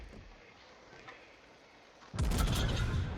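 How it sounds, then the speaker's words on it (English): A warship's naval guns fire a volley in a naval combat game: after a quiet stretch, one sudden loud boom erupts and its rumble carries to the end. "And Ram gets a volley off on the Marceau."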